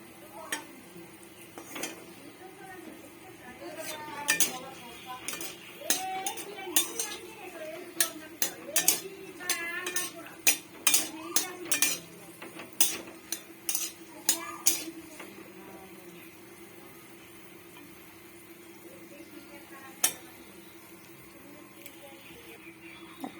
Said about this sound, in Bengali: ভালো করে শুকনো লঙ্কাটা ভাজতে হবে, নাহলে ডালের মধ্যে এর গন্ধটা যাবে না।